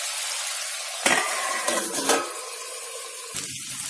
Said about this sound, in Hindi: फिर से आलू को हम चला लेते हैं।